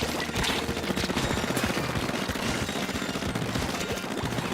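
Rapid ink gun fire from an Aerospray RG in a Splatoon 2 online match, a dense continuous stream of spraying shots with game effects layered over it, loud and steady throughout.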